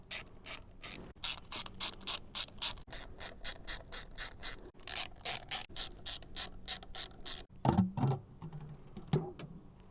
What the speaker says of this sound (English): Remove the old gasket, remove the derby cover, 5 T25 Torx screws.